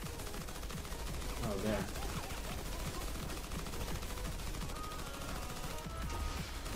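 Rapid gunfire bursts and shots in an online video game, dense and continuous over game noise, with a player briefly talking over it.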